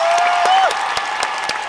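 Concert audience applauding a band at a live show in Toronto, a dense steady wash of clapping with some cheering and a faint whistle, loud and continuous.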